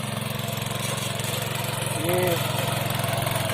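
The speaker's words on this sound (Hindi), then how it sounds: "ये ट्रैक्टर पेट्रोल से चलने वाला है, पावर वीडर।" A petrol-powered power weeder, a small tractor used on terraced hill farm fields, runs with a steady, loud, close engine drone and rapid pulsing throb, and swells slightly for a moment partway through.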